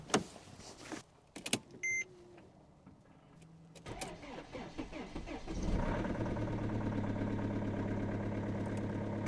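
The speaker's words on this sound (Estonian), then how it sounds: "meil on lisaks mootori häälele ka kompressori hääl taga. Ja meie tagumik hakkab vaikselt tõusma." A Mercedes-Benz W211 is started, then its engine idles steadily while the air suspension compressor pumps to raise the rear, a continuous hum and whine after a few brief mechanical clicks and whirs at the start.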